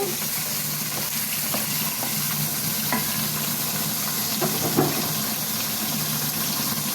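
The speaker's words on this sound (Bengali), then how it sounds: "এখন আমি মাংসগুলো একটু নাড়াচাড়া করে" Beef frying in oil with onion and garam masala, stirred in the pan: a steady broadband sizzle throughout with a few soft scraping stir strokes, close and moderately loud, no talking.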